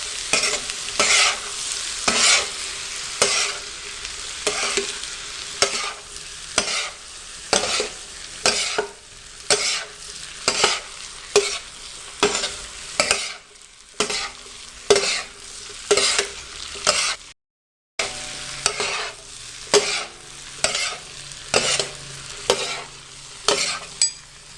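Tomatoes are stir-fried fast on a very hot tawa for street-style tawa pulao, a loud sizzle broken by rapid, regular scraping strokes of a spatula, repeating steadily with a brief gap partway, no one talking.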